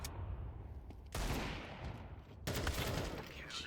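Rapid gunfire in a competitive shooting video game match with pistols and machine guns, dense crackling bursts that swell loudly at about one and two and a half seconds.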